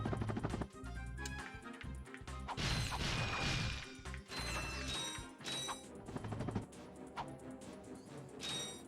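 Wooden crates being smashed open for loot in the Ratchet & Clank video game, with repeated sharp cracks and whacks over busy game music and effects, steady and loud throughout.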